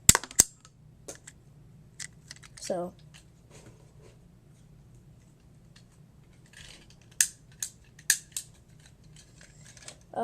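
A small plastic Happy Meal toy launcher clicks and snaps as it fires out a disc, giving several sharp, close, light plastic clicks spread out amid quiet, with a voice speaking between them.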